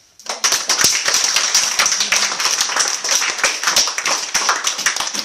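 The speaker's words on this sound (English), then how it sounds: "Good, clap hands for yourself." A group of schoolchildren clap their hands during a storytelling session, a dense, continuous burst of quick, overlapping claps that starts abruptly and stays loud and close throughout, with a steady high tone running underneath.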